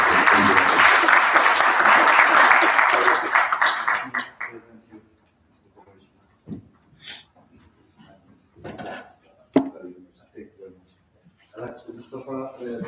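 An audience at a university-hosted international panel on maritime decarbonization bursts into loud, dense clapping that runs about four seconds, then breaks off as a voice carries on speaking over the quiet room.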